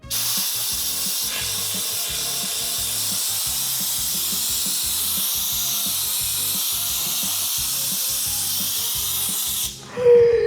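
Continuous loud hiss of a steam cleaner spraying, with a steady rhythmic rubbing of scrubbing underneath, cutting off briefly near the end.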